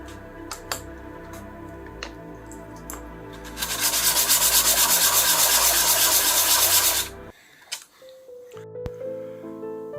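A small piece of a find being thinned and trimmed down for a mount with a power sanding tool, a loud, close, steady grinding rasp lasting a few seconds, framed by lighter scraping and handling sounds.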